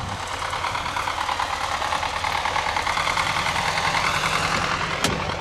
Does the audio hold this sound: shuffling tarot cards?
no